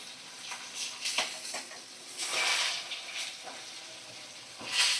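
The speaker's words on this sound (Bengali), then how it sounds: "আর এক সাইডটা ভালো করে ভাজা করে নিচ্ছি" Bhetki fish pieces frying in oil in a pan, a continuous hiss and sizzle that swells and fades in waves, close and fairly loud, with no talk over it.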